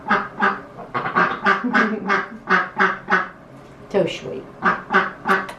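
A Rouen duck from a backyard flock quacks repeatedly and close by, in a quick series of loud raspy calls with a brief pause midway, and a person speaks softly in between.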